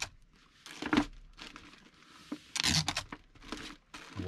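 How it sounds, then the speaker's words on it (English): Packing tape is pulled from the roll and pressed down to seal a package, giving short ripping and crinkling bursts in an irregular rhythm, close and moderately loud. "And then I will take and tape this down. Come across and tape that."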